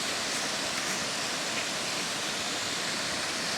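A waterfall pours in a steady, dense rushing roar, close and continuous with no breaks, alone without voices.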